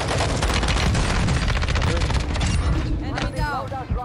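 SMG gunfire in Warzone 2, a rapid, sustained automatic burst with evenly spaced loud shots for about three seconds, ending in scattered cracks and faint voices.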